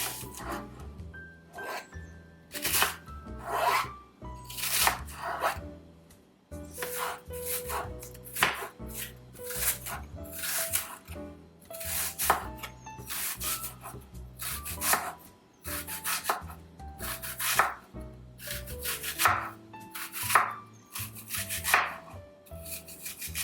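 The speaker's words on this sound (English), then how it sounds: "we always start our Persian foods with starting with chopping our onions" Steady knife chopping onions on a cutting board, repeated sharp thuds in quick irregular bursts, close and clear with no talking.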